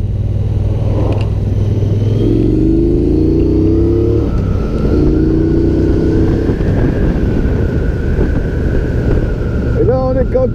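A Triumph Bonneville Speedmaster twin-cylinder motorcycle accelerates in fourth gear, engine pitch climbing in two rising sweeps under heavy wind rush, with someone talking briefly at the end.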